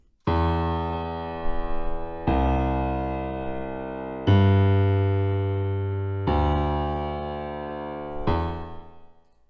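A bass line for a song, made in FL Studio, plays on its own: five long, deep sustained notes, each ringing out for about two seconds before the next begins.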